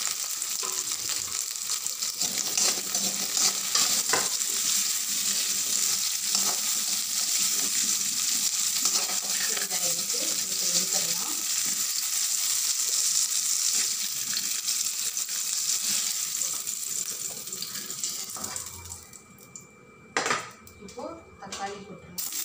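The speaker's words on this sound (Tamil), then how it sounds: "இப்போ சின்ன வெங்காயம், தக்காளி இதெல்லாம் வதக்கப்படும், கொஞ்சம் எண்ணெய் ஊற்றிக்கலாம்" Whole shallots and tomatoes sauté in oil for a village-style mutton curry, a steady close sizzle with scattered clinks of a utensil against the pan that drops out near the end, leaving a few sharp knocks.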